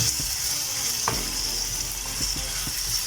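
Small paneer cubes fry in a pan with a steady, close hiss of hot oil, broken by a few sharp clinks and scrapes from stirring; no one speaks.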